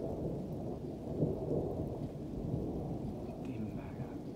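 A violent summer thunderstorm over Clermont-Ferrand in Auvergne, France, rolls with deep continuous thunder under steady heavy rain, the low rumble swelling and easing throughout at moderate loudness.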